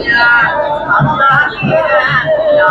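Large crowd thronging the annual Pongal festival at Vattappalai Kannaki Amman temple, a dense, loud babble of many voices with shouts rising over it, continuous throughout.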